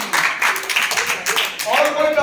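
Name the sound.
classroom applause, students clapping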